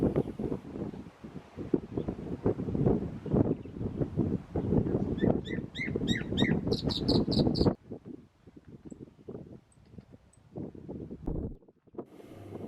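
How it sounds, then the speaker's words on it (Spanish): Bright, repeated whistled notes of a chalk-browed mockingbird calling in short bursts over strong wind buffeting the microphone outdoors at Carhué. "vimos algunas aves como la abundante y oportunista calandria grande"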